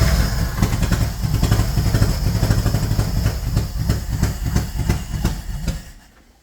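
A Bombardier engine fitted with a new carburetor fires up dry on its first start, running as a loud, steady rumbling chug with rapid pulses for about six seconds before cutting off.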